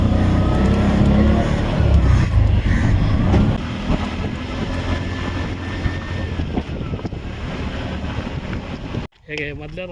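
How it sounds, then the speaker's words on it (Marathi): An auto-rickshaw ride through the Kudal area of the Konkan, with a steady loud engine drone and road and wind rumble that run continuously and ease slightly partway through, then cut briefly near the end. "आता आम्ही रिक्षाने चाललो रिक्षा पकडली"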